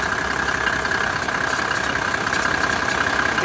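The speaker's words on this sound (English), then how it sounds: "Yeah, compressor's slipping there." An engine bay of a 1987 Mercedes 300SDL runs with a steady rough drone, and an AC compressor slipping gives a continuous whining tone over the idling engine.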